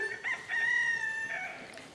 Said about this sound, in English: that is a midget rooster